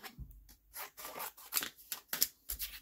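Scissors cut through card for a handmade drop-down greeting card, close and quiet, with several short crisp snips and rustles in quick succession and no talking.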